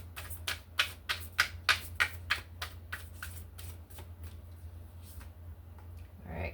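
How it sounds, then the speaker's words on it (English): A deck of tarot cards being shuffled, a run of crisp riffling bursts in quick rhythm that slows and thins toward the end, close and fairly quiet over a steady low hum. "We'll do one more shuffle."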